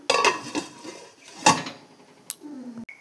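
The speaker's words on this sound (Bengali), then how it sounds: "দিয়ে এবার ভালোভাবে এটাকে ঢাকা দিয়ে সিদ্ধ হতে দেব কিছুক্ষণের জন্য" A metal lid placed over a cooking pot, with a few sharp clanks and rattles close by, then a brief scrape and a short ringing knock, no talking.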